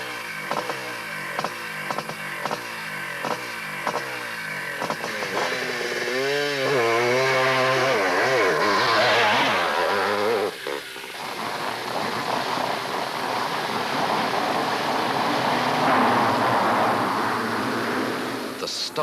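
Motocross motorcycles at the start of a race, first a rapid pulsing engine rhythm, then a pack of two-stroke engines screaming together at high revs before fading into a rough, sustained roar.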